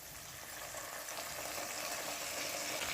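Ginger-cumin paste sizzles in oil with fried potatoes, a soft, continuous frying hiss that swells slightly, heard close and without talk.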